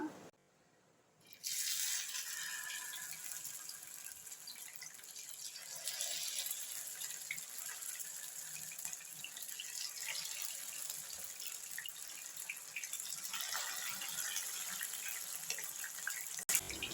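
Fish frying in hot oil in a home kitchen, a steady, close sizzle that bursts in suddenly after a brief quiet moment and keeps hissing evenly at a moderate level, with no talk.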